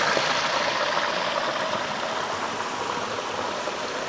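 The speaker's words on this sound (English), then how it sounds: "The stream just cut right down through this mountain." A mountain stream rushes through a steep rocky gulch below sheer cliffs near a waterfall, giving a steady, loud, broadband wash of flowing water that stays constant throughout with no voices.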